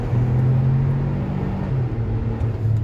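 A Geely Coolray with a dual clutch transmission in sport mode, heading downhill: a steady, loud engine and road drone fills the cabin, the engine note stepping as quick gear shifts come through, with no speech.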